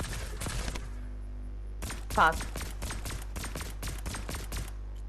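Rapid bursts of gunfire in the video game Fortnite, quick clustered shots in short volleys with pauses between them, alongside a brief spoken word.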